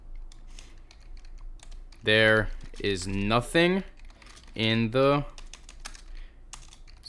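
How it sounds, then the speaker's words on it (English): Computer keyboard typing, a steady run of light rapid clicks under someone talking, continuing through his pauses. "excuse that typing"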